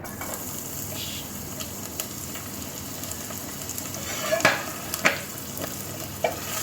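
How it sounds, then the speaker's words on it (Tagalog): Garlic sautéing in oil in a pan, a low steady sizzle broken by a few sharp clicks and scrapes of a spatula, growing busier toward the end. "Magisa na tayo guys. Ayan, unahin natin yung bawang."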